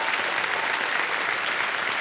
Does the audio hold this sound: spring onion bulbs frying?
no